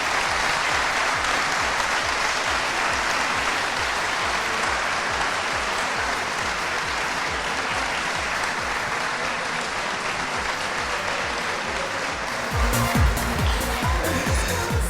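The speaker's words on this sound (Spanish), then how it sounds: "y creo que se merecen un fuerte aplauso." Sustained audience applause at a sports education training conference, a dense, steady clapping from a large hall crowd lasting throughout, with a slight change in texture near the end.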